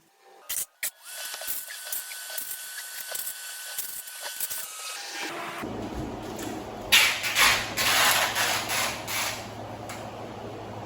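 Tape pulled from a roll and pressed along a waterproof vinyl plank flooring seam, a few sharp tears then a long steady ripping hiss as the strip is unrolled and rubbed down, close and alone.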